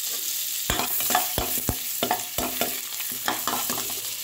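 Chopped onion and bay leaves frying in refined oil and butter in a kadai, a steady close sizzle broken by repeated sharp scrapes and clacks of a spatula stirring at an irregular pace.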